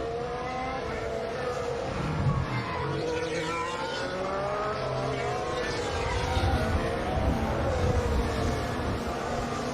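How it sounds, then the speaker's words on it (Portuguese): Formula 1 cars at the Australian Grand Prix accelerate away as racing resumes after a safety car period, with several high-pitched engines whining and rising in pitch at a distance, heard over a continuous broadcast background. "Safety car vai embora e a corrida recomeça"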